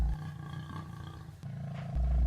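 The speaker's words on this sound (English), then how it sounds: "A lion, the most dangerous enemy of the young cubs." A male lion roars on the savanna, a deep, loud, close roar with harmonic growling tones that breaks briefly and then resumes strongly.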